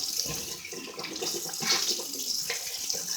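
Water running from a household tap into a sink as a toothbrush is rinsed, a steady close splashing hiss with brief surges and bursts of spatter, no talking.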